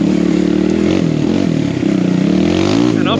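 Dirt bike with a big bore kit climbing a mountain, its engine revving loud and steady with a rough, buzzing tone that wavers as the rider climbs.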